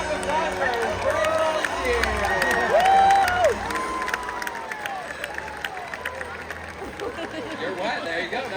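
A SeaWorld San Diego Orca Encounter crowd claps and cheers for volunteers in a big outdoor stadium, with applause, whoops and children's shouts under an amplified announcer's voice.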